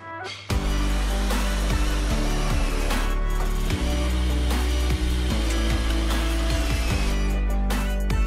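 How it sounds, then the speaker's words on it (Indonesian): A power screwdriver drives screws into the side panels of a blockboard kitchen cabinet, with a loud steady motor whine broken by repeated short bursts of screws biting into the wood, close up. "Lalu kita sekrup semua dari sisi samping agar nanti struktur dari kabinet ini benar-benar"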